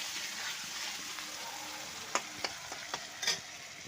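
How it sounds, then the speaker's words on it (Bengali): Tomato and onion frying together in a pan, a soft steady sizzle close by with several sharp clicks of a spoon or spatula stirring near the end. "টমেটো পেঁয়াজ একসাথে ভাজা লইতেছি।"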